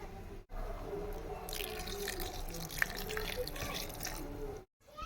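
A soft, steady stream of water pours and splashes for a few seconds, fairly close and quiet, as water is added for grinding roasted coconut.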